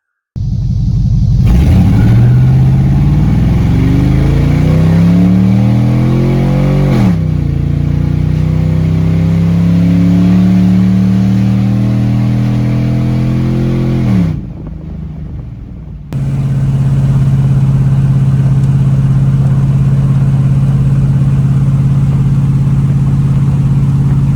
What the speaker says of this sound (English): So the truck is officially going good, and here's a few test drives with it going good.